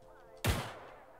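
A single sharp gunshot with a booming tail in a social deception first-person shooter video game, sudden and loud against a quiet background.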